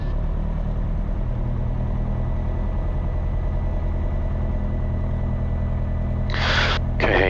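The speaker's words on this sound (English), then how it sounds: "RPM set to idle. Yeah, that's idling quite high, isn't it?" A light aircraft piston engine idles high on the ground, a steady near droning rumble with a firm low pulse, and short crackly radio-like bursts near the end.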